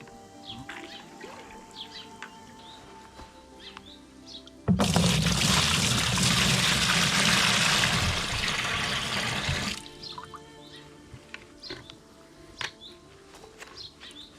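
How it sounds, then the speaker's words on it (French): Pond water from a koi pond pours from a bucket into a tub in one steady five-second splash that starts abruptly and stops just as suddenly, with quiet background drips and faint outdoor sounds before and after. "on va donc mettre un peu d'eau du bassin dans le bac"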